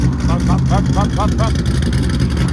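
A loud LS3 V8 engine in a modified C5 Chevrolet Corvette revving in repeated pulses under steady traffic rumble, with a voice briefly heard.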